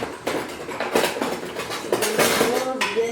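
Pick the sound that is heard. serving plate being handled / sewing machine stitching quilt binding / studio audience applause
serving plate being handled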